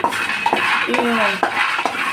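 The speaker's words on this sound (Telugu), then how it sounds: "పల్లీలు వేసేసుకోండి." Raw peanuts are tipped into a metal frying pan and stirred, giving rattling clatters and scrapes against the pan with a few sharp knocks over a faint sizzle.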